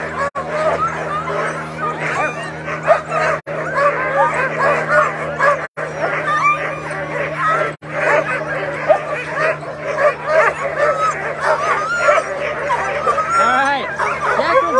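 A crowd of sled dogs at the Iditarod race start barks, yips and whines loudly and constantly, overlapping one another, with voices murmuring in the background.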